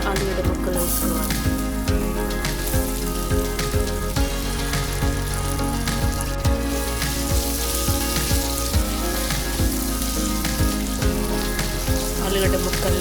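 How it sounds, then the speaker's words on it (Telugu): Potato pieces frying with turmeric in oil, covered and simmering, give a steady close sizzle with constant popping and crackling that runs throughout. "ఆలుగడ్డ ముక్కల్ని మూత పెట్టి సిమ్లో బాగా ఫ్రై చేసుకోవాలి."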